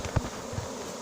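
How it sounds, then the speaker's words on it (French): Honeybee swarm being shaken into a cardboard box, a close buzzing drone of many bees with a couple of soft thumps, with no voices. "les abeilles se posent déjà sur le carton et elles battent déjà le rappel"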